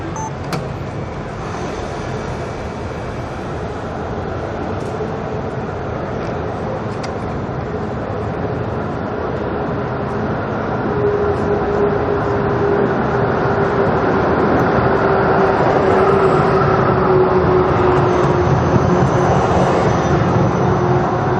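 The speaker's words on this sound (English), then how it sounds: "here comes a tram" A tram passes along a street in Amsterdam, a steady rumble of wheels and motor slowly building louder and nearer, with faint traffic noise and no talking.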